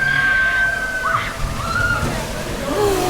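A rushing slosh of water from a ride's wave washes over riders at Parc du Bocasse, with people speaking and shouting over the churning splash.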